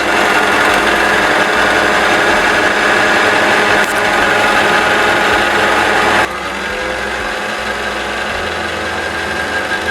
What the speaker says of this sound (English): push down your pedal, and it should start winding it